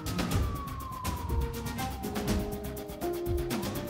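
A police car in the BeamNG Drive driving game rolls past with its siren wailing in long falling and rising sweeps over a dense engine and road roar, steady and fairly close.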